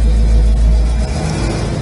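A 1970 Chevrolet Chevelle SS V8 runs on the road in a steady, loud, low engine rumble that holds at an even pitch throughout, with no voices over it.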